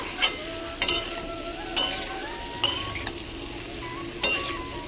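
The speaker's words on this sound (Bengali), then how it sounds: "দিয়ে আমি বেগুনটাকেও দিয়ে পুঁইমিটুলি দিয়ে এবং আলু দিয়ে ভালো করে কষিয়ে নাড়িয়ে নেব মশলার সাথে" Eggplant, pui greens and potato stir-fried with spices in a village kitchen: a steady sizzle with five sharp spatula knocks against the pan, spaced about a second apart, close and clear with no talk.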